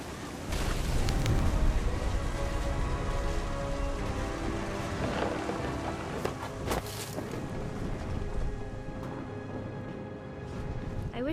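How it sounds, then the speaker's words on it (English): A thunderstorm in the video game What Remains of Edith Finch brings loud, dense rain with a deep rolling rumble of thunder and wind, and a voice speaking faintly underneath. "The thunder sounded much too close and full of angry power."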